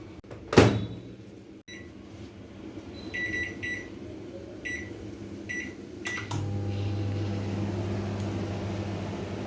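A microwave oven heats peanuts on a plate in a home kitchen. A door thump and a few short beeps come first, then the oven's low steady hum rises and runs to the end. The sound is quiet and close, with no talking.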